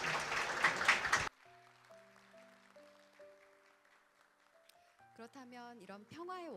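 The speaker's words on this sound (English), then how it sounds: "A big round of applause, please," An audience at a conference session in Centennial Hall gives a professor a loud burst of applause that cuts off abruptly. Soft sustained musical tones follow, then a voice begins speaking.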